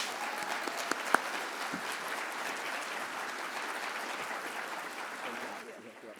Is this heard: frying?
no